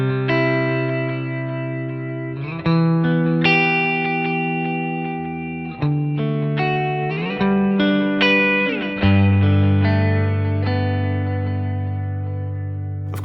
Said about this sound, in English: Your dual delay is going to get a lot more ambient.